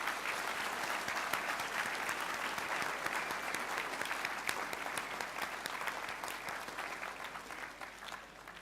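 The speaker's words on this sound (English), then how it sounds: "Can we please give the lads a round of applause?" A school assembly applauds the boys' chess team, many hands clapping at once in a full, sustained round that tapers slightly toward the end.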